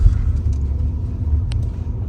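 A parked car's engine rumbles low and steady outdoors beside a small Monday summer market, a continuous near hum with a brief faint click midway and no talk.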